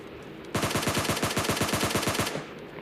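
A rapid burst of roughly seventeen close, loud gunshots fired as headshots in the PUBG Mobile Lite video game. The fire keeps an even automatic rhythm for nearly two seconds, then stops abruptly, with quiet before and after.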